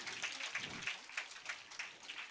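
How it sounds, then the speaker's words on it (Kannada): An audience claps at a music academy's tenth anniversary event, a faint, steady patter of many hands from a distance, with a brief low murmur underneath. "ಅವರಿಗೆ ಮತ್ತೊಮ್ಮೆ ಜೋರಾದ ಚಪ್ಪಾಳೆಯೊಂದಿಗೆ ಪ್ರೋತ್ಸಾಹಿಸಬೇಕು"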